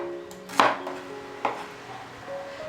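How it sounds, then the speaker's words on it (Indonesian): A knife chops shallots for a sambal spice paste on a cutting board, giving two sharp, close thuds about a second apart over a faint steady background hum. "kita akan memotong-motong dulu bumbunya ya, biar mudah untuk dihaluskan"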